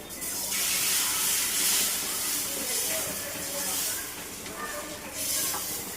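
Besan chilla batter spreading across a hot oiled pan gives a steady, loud sizzling hiss that holds throughout, swelling and easing slightly as it spreads.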